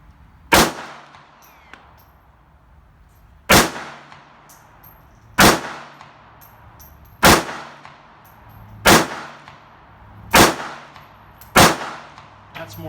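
Seven sharp, loud gunshots from a Sig Sauer P238 pistol at a shooting range, fired one by one at uneven gaps of about one and a half to three seconds, each with a quick fading ring.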